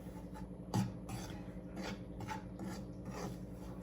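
Semolina stirred and roasted in a hot pan, heard as repeated scraping strokes of a spoon against the pan in a steady rhythm, close and fairly quiet, with no voices.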